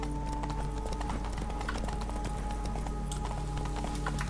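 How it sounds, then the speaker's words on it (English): Roach, the horse in The Witcher 3 video game, gallops in fast, steady hoofbeats over a low rumbling game background, loud and close for the whole stretch. "Giddy up. Not so fast, Roach"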